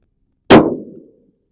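A single close, sharp report from a .300 Win Mag rifle fitted with a muzzle brake, a hard metallic crack that dies away within about half a second, with nothing else heard around it.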